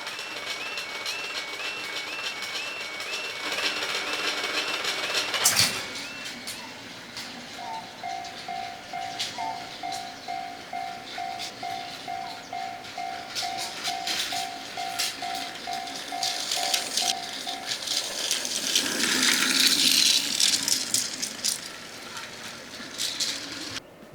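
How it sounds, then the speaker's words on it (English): A Plarail toy train rolls slowly into a freight terminal layout while car-loading equipment runs, a steady plastic rattle and clicking with a brief sharp clack and a sustained whirring tone from the loader. "As the train slowly pulls into the terminal, the vehicle loading operation begins"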